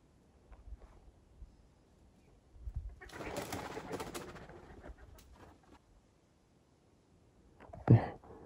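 Soft, low grouse calls come from a nearby tree, quiet hooting and cooing notes spread out over a rustling background, with one louder sharp sound near the end.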